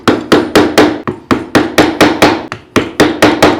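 A wooden mallet drives a small chisel into wood during decorative carving, striking in a steady rhythm of about a dozen sharp, loud knocks, each with a brief ringing decay, close and alone.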